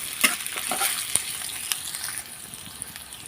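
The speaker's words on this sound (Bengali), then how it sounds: "পেঁয়াজটাকে আমি 2 মিনিটের মতন ভেজে নেব।" Chopped onion frying in hot oil in a karahi (kadai) pan for a village-style beef head meat bhuna, a steady close sizzle with faint stirring clicks throughout.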